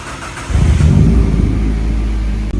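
A Deep Orange 3 car, not run in over ten years, cranks and fires up nearby: a loud engine catch that settles into a rough, steady idle with a brief dip near the end.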